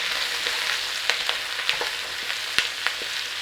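Onions and garlic frying in a single pan for sausage and bean stew: a constant close sizzle with scattered sharp clicks and scrapes of a utensil, no talking.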